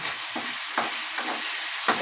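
Meat and vegetables frying in a pan just after soy sauce is poured in, a steady close sizzle punctuated by a few scraping stirs, with no talking.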